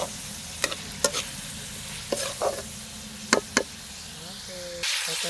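Pork fat being stirred as it fries in a pan, a steady sizzle broken by a few sharp scraping strokes, close by with no talk.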